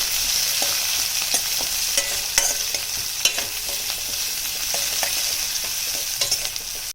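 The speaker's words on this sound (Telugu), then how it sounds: "ఉల్లిపాయలు వేసేసి గోల్డెన్ కలర్ వచ్చేదాకా వేయించుకుందాం" Onions frying in a pan with a little salt until golden, a loud, close, steady sizzle peppered with sharp crackles and stirring clicks, no voices, ending abruptly.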